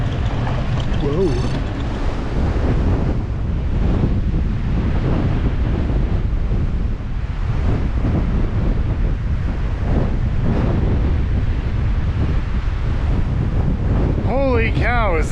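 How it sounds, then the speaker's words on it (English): Strong wind blasts steadily against the microphone outdoors on a bikepacking ride across Arizona, a loud continuous roar and buffeting throughout, with a voice exclaiming near the end. "it is blowing like crazy."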